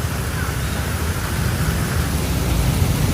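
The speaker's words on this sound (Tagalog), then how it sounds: "Walang humpay na pagbuhos ng ulan" Heavy, unrelenting rain pours steadily during a red rainfall warning in Metro Manila, near a bridge over the rising Marikina River, a dense continuous wash of hiss with a low rumbling undertone throughout.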